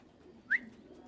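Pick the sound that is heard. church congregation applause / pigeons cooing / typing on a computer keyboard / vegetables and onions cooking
pigeons cooing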